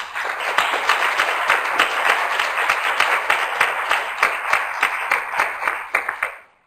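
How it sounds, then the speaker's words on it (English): Audience at a public meeting on functional GI disorder drug development claps loudly and steadily for several seconds, dense applause close by that ends abruptly, with no voices over it. "can I ask for a round of applause"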